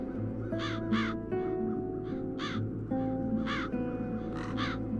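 Crows caw in the video game Satinavs Ketten in a series of harsh, paired calls that repeat over a steady musical drone and ambient bed. The calls are moderately close.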